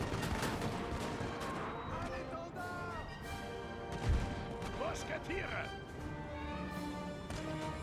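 Massed musket volleys from platoons of line infantry in the Napoleonic-era strategy game Napoleon: Total War, with dense battlefield noise, one sharp heavier report standing out and a steady din of gunfire throughout.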